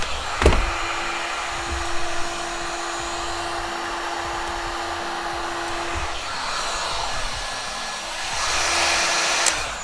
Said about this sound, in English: Just sit here with the heat gun and wait for it to get hot.